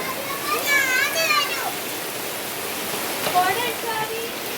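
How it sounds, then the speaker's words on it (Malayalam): Heavy summer rain pours steadily as a dense, even hiss that fills the whole clip, with faint voices and thin whistling tones rising above it now and then; no thunder stands out. "ഇപ്പം നല്ല മഴയും അതുപോലെ തന്നെ ചെറിയൊരു കാറ്റും ഇടിയും"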